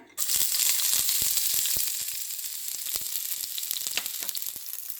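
Garlic pieces hit hot oil with a sudden loud sizzle that keeps going as a steady, dense crackle, broken by sharp pops and spatters from the pan.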